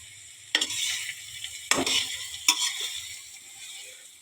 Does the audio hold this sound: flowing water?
no